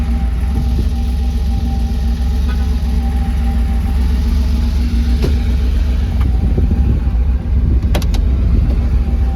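A Porsche 911 engine rumbles steadily and loudly at close range, a constant mid-pitched drone with a few faint clicks and ticks on top.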